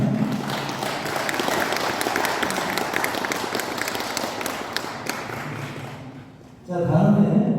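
Applause from an audience at a Korean memorial or commemorative gathering, a broad steady wash of many hands clapping that fades out near the end, followed by a nearby voice starting to speak.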